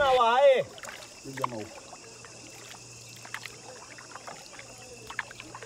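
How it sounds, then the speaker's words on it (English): A rowboat moves along a jungle river at Tiwai Island, Sierra Leone. A short burst of voices comes first, then soft, irregular paddle splashes and knocks over a steady hiss of water and surroundings. "made it over the worst parts and only had to row back in calm water"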